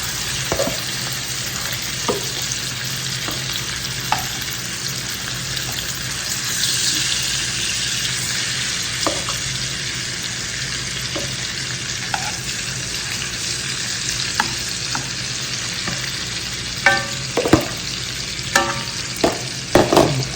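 Shrimp fry and get stirred in a hot pan, producing a strong steady sizzle with scattered utensil scrapes and taps throughout and a few louder clicks toward the end, close and prominent.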